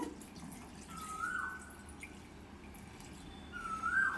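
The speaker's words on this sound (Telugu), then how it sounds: "మీడియం సైజు 3 పళ్ళుకి ఈ గ్లాసుడు మిల్క్ అయితే యాడ్ చేస్తున్నానండి." Milk poured from a glass over medium-sized mango pieces for homemade mango ice cream, a soft liquid trickle with faint drips, swelling briefly near the middle and again louder at the end.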